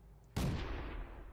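A single loud tank cannon shot in World of Tanks booms suddenly and close, then decays into a long rumbling tail.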